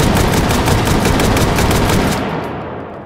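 An AA-12 automatic shotgun loaded with frag rounds fires a rapid, loud, continuous burst of booming shots that ends abruptly and leaves a fading echo.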